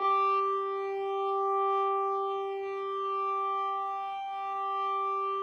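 Two close steady tones hum together, their combined loudness swelling and fading in a slow, regular beating pattern, with no other sound.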